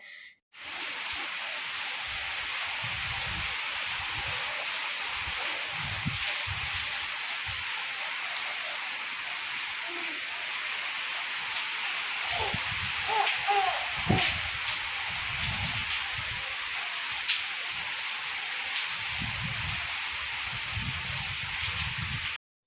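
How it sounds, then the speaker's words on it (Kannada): Heavy rain pours down in a steady, unbroken hiss that holds at an even level throughout, with no voices. "ಹೊರಗಡೆ ಹೋದರೆ ಜೋರಾಗಿ ಮಳೆ ಬೀಳ್ತಾ ಇತ್ತು"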